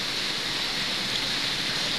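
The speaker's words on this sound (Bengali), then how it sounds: "সুন্দর সকাল সকাল মুষলধারা বৃষ্টি হচ্ছে" Heavy morning downpour, a dense, even hiss of rain falling steadily and loudly with no breaks or voices.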